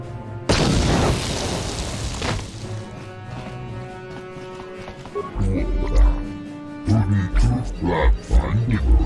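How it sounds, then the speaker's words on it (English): A grenade blast in the video game Star Wars: Knights of the Old Republic, one loud booming explosion that hits suddenly and rolls on under layered game music and effects. "Grenade!"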